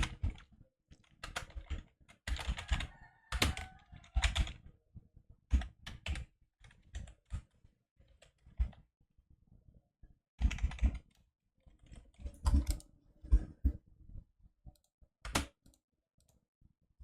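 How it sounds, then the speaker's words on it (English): Computer keyboard typing during a C# string formatting coding session: bursts of quick, close clicking keystrokes separated by short pauses, with no talking. "I just prefer to type it."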